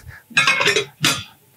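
Stainless steel pans clink sharply as they are stacked, two distinct metallic bursts in quick succession, close and fairly loud with no talk over them.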